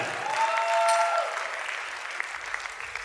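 An audience at a cocktail party breaks into applause, a dense wash of clapping that swells and then tapers off, with a faint musical tone ringing briefly underneath.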